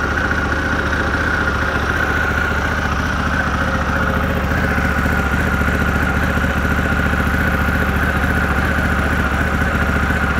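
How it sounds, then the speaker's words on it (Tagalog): A Harley-Davidson Pan America ST on stock exhaust idles high after a cold start, a steady, fairly quiet mechanical drone with a fine rapid pulse running evenly throughout, close up, with no talking. "Kaya mataas pa yung idle niya."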